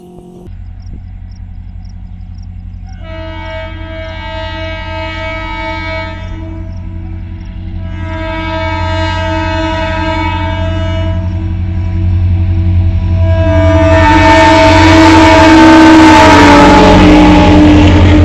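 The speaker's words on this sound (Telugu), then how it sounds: "ప్రస్తుతానికి ట్రైన్ విత్ ఫుల్ స్పీడ్తో వెళ్తుంది పెద్దపల్లి కాచిగూడ ట్రైన్." A Peddapalli to Kachiguda passenger train runs at full speed past Karimnagar on a new track, a deep droning horn-like tone and rumble that swells steadily louder as it approaches, ending in a loud broadband roar, no talking.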